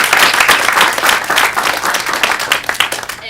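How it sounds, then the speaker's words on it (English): Audience applause after a student finance portfolio presentation, a loud, steady burst of many hands clapping close by for a few seconds before tapering off. "One more round of applause for these guys."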